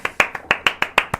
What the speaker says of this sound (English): round of applause for our debaters